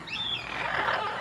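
Amazon parrot chirping while eating a grape: a short, soft run of squeaky chirps and chatter, faint and close.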